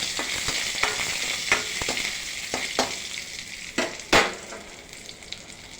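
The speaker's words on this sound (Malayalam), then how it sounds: "കടുകിട്ടു, മുളകിട്ടു, കറിവേപ്പില ഇട്ടു, ഇഞ്ചി ഇട്ടു. അപ്പോൾ ഒന്ന് ഇളക്കി കൊടുക്കുക." Mustard seeds, chili, curry leaves and ginger fry in oil in a Kerala kitchen, making a soft steady sizzle broken by several sharp spoon scrapes and taps as they are stirred.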